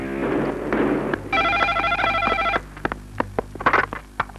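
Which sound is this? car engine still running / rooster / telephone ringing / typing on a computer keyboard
telephone ringing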